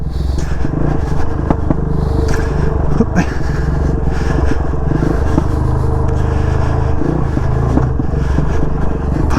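A KOVE 450 Rally motorcycle being ridden, with a loud, steady engine drone close by and scrapes and clatter from the bike over rough ground, and no voices.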